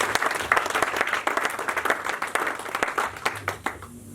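A church congregation applauding during worship, with steady dense clapping that fills the room, close and lively, then tapers off quickly at the end.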